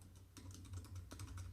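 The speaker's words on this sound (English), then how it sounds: "So right here we can type in" Computer keyboard typing: a short burst of quiet, close key clicks in an uneven rhythm over a faint steady hum.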